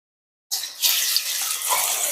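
Batter for bakful fritters hits hot oil in a wok with a sudden sizzle that starts abruptly and holds as a steady, bright hiss at close range.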